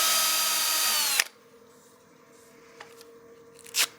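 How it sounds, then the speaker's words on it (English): A power drill spins sandpaper against a part being given a CA finish, a loud steady whine for just over a second before it cuts off, leaving quiet room tone with a couple of faint knocks. "And then I'll just feather the drill back and forth to maintain that nice smooth radius we have on the end."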